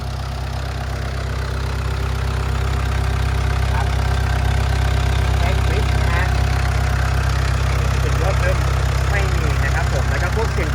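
A Komatsu WA100-6 wheel loader's diesel engine idles steadily up close, a deep continuous rumble with a mechanical clatter, loud and unchanging for the whole stretch.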